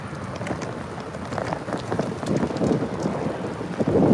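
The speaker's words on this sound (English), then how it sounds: "Look, here come the rain again." Rain starts falling on a road, a dense steady patter that builds in loudness toward the end, heard from inside a moving vehicle with a low rumble beneath.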